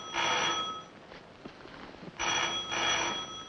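Telephone bell ringing in a 1953 film scene, two loud bursts of an old-style ring separated by a pause.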